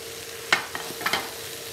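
Cauliflower fried rice with shrimp, egg and tofu stir-fried in a pan: a few sharp spatula scrapes and clinks over a faint steady sizzle, close and fairly quiet.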